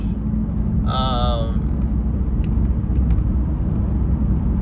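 A car drives along a rough road with a constant low rumble and thumping from the bumpy surface. A short tonal whine comes in about a second in, and a voice talks over the rumble.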